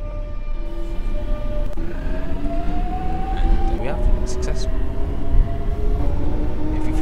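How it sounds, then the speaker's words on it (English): A London Underground Jubilee Line 1996 Tube Stock train in the OpenBVE simulator pulls away, its electric traction motors giving a steady rising whine over a constant rumble. "I'll keep pressing it until at least the train is starting to move."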